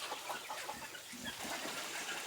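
Egg-laying hens and roosters on a village farm near evening give scattered clucks and calls at a moderate distance, fairly faint over a soft outdoor background.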